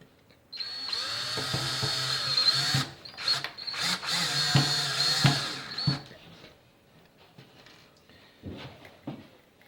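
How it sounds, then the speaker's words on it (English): A power drill with a Phillips bit drives screws to attach hinges to the base of a wooden soap mold, whirring in several close, loud bursts before a quieter pause and a couple of short final runs. "now we switch over to the Phillips bit, and we are going to attach the hinges to the base"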